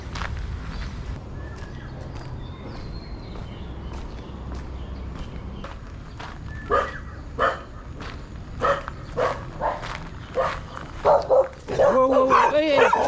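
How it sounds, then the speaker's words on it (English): Wild street dogs in Kuala Lumpur bark in a series of sharp, increasingly loud and close barks and yips, building into a burst of barking near the end, with faint talking earlier. "wild dogs."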